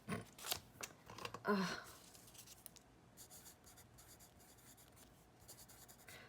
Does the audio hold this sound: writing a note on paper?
yes